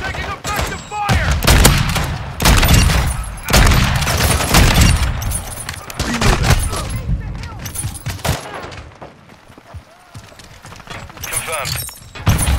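Video game gunfire, rapid bursts and single shots cracking close and loud in irregular clusters, with voices calling out over the shooting.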